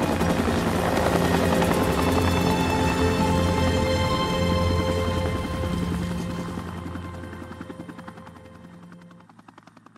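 A helicopter in the video game Until Dawn comes in to land, its rotor thumping loud and steady with a droning engine, then fading and winding down toward the end.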